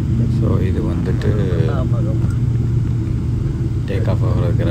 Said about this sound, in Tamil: டேக் ஆஃப் ஆகிறதுக்கு ரன்வேல போகுது.